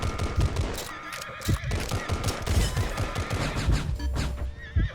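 Cavalry horses neigh and whinny amid a busy battle scene in the mobile war game Glory Frontline, with dense clattering hooves and gunfire sounding close and loud throughout.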